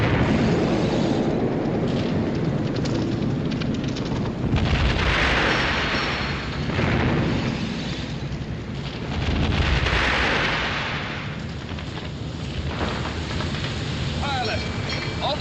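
Shell blasts from a direct hit on the cruiser Exeter's forward turret during a naval battle, a dense, continuous roar of explosions that swells in heavy surges around the middle and near the end.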